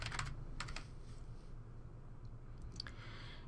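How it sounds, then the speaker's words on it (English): Soft, faint clicking of keys on a computer keyboard while entering data, a few quick bursts of taps separated by a short pause, over low room hum. "So I'm just going to type some data."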